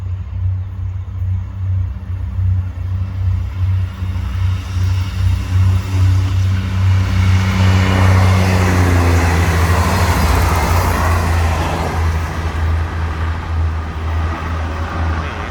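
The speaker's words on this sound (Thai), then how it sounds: "เร่งเครื่องมาแล้วครับ" Diesel passenger train No. 75 from Bangkok to Nong Khai revs its engine, a heavy low throbbing rumble that builds louder and rougher as it accelerates past nearby, then holds steady.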